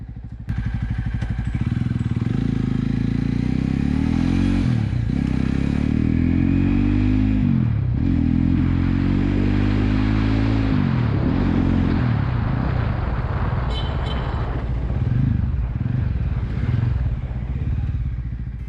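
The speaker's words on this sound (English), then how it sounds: "If you had noticed the exhaust sound of this particular bike" A Jawa 42 motorcycle's aftermarket exhaust thumps and rumbles while riding, rising and falling in pitch as the rider shifts and accelerates, loud and close throughout.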